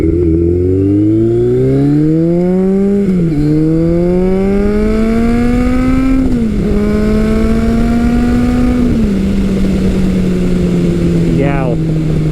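A 1980s muscle-era cruiser motorcycle, a Yamaha XS1100 or Kawasaki KZ1000, revs hard and accelerates up through several gears, its engine note climbing in pitch then dropping at each shift, loud and close throughout.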